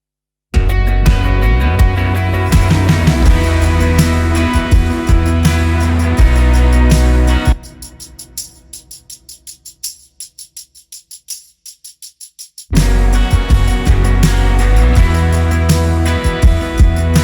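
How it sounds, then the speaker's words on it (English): Rhythm tambourine in the chorus of a worship song, set inside a full band mix with drums; steady shaking jingles carry the groove, the mix thins out midway for a few seconds with pulsing hits before the full chorus returns. "So the rhythm tambourine when it comes into the chorus sounds like this"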